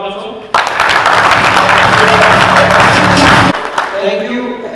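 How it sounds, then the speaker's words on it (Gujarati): Loud burst of applause for event coordinators at a business networking chapter launch, erupting suddenly after a spoken line and holding strong for about three seconds before fading under voices and background sound. "મારા બધા કોઓર્ડિનેટરોને તાળીઓ બજાવશો"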